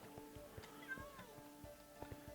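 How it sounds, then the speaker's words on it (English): A cat meows faintly once at a door in the modded Minecraft pack FTB Regrowth, a short rising-falling cry set against steady background music and game sounds. "it sounds like there's a kitty at the door"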